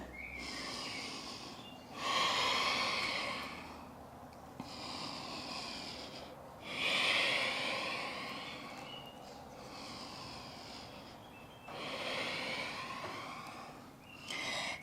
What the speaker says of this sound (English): Take 3 breaths.